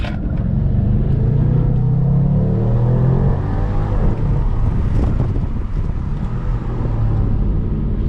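A tuned 2020 BMW M550i drives along with a deep, steady engine rumble heard from inside the cabin, mixed with road and wind noise, loud and continuous without talk.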